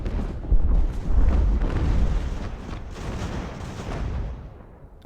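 Cannon and artillery fire in the naval and land battle game Ultimate Admiral: Age of Sail, a dense rolling series of deep booms and rumbling blasts that fades out toward the end.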